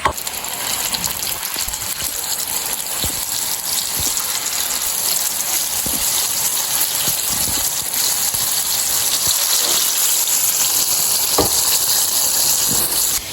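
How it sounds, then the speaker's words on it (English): Flour-coated food fries in a pot of hot oil, a loud, steady, dense sizzle that runs unbroken throughout, with scattered small pops. "meanwhile those are in the pot frying"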